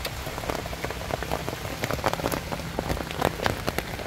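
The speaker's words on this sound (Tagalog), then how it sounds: "Solid din yung patak ng ulan." Heavy rain pours down beside a river, a steady dense patter of drops striking surfaces with scattered louder splashes throughout, no voices.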